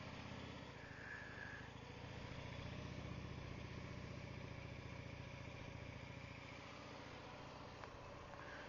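Harley-Davidson motorcycle engine idling and pulsing at low revs during a slow U-turn, a steady throbbing rumble heard from a little distance, swelling slightly mid-way, with no talk.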